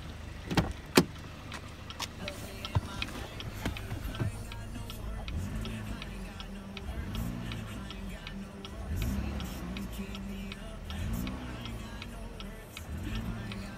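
A 2014 Cadillac CTS with a 2.0 liter VVT direct-injection engine idles steadily, its fast injector ticking clearly audible over a low engine hum, with a few sharp clicks near the start.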